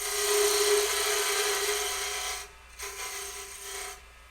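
A wood turning tool widens a groove in a spinning workpiece on a lathe, giving a close, steady scraping rasp over the lathe's hum that briefly drops out twice before resuming.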